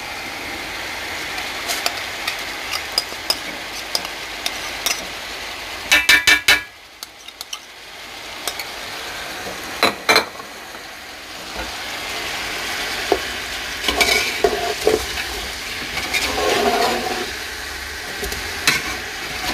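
Yogurt being stirred and fried in a pot for biryani, a soft continuous sizzle under scraping spoon strokes and occasional clinks of metal against the pan, with a brief quieter pause partway through.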